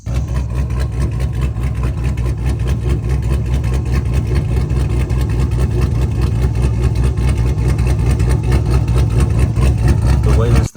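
A swapped 392 Hemi V8 in a Dodge Charger R/T idles with an aggressive camshaft, a loud, steady, lumpy rumble with a choppy pulsing rhythm that holds close and unbroken throughout.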